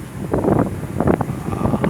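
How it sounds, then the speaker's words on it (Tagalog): Gusty wind buffets the microphone outdoors while a homemade kite flies, coming in uneven rumbling bursts that swell and fade. "pabugso-bugso yung hangin"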